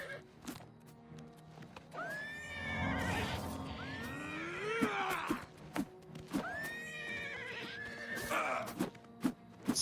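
Video-game horses whinny and neigh repeatedly in long rising-and-falling calls, with hooves clopping and sharp percussive hits scattered between, a busy, fairly close mix with no talk.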